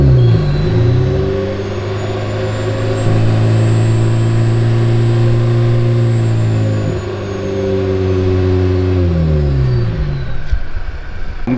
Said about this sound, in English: it's nice to hear the turbo whistle.